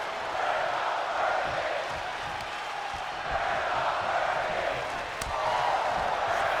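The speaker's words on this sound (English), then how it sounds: "The crowd chanting, "We're not worthy."" Arena crowd chanting in the WWE 2K25 wrestling video game during a SmackDown match, a steady, dense roar of many voices that rises and falls in waves throughout.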